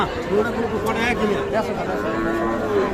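Sahiwal breed calves at a busy cattle market, lowing repeatedly at close range over a steady background of crowd chatter and market hubbub.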